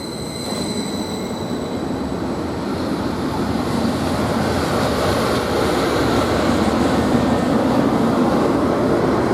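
A Greater Anglia train heading toward Ipswich passes through March railway station, making a loud, steady rumble of wheels and engine that builds slightly and holds throughout with no talking.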